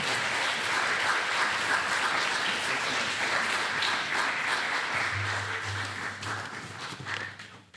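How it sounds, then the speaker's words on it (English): A lecture audience in Hawaii gives speaker Kevin Roose a sustained round of applause. The dense clapping fills the hall and thins slightly toward the end, while a low hum joins in the second half. "let's give him a round of applause and celebrate a scholar here with us in Hawaii"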